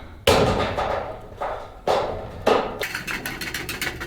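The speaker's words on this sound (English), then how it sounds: "let's see if I can cut this sucker with these tin snips" Tin snips bite through insulated metal skirting in a few sharp, loud clipping strokes, each a crisp metallic crunch, followed by quicker, lighter snips.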